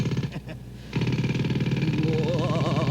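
A rapid, steady pounding rattle like a jackhammer starts abruptly and runs loud and continuous, with a voice mixed in over it.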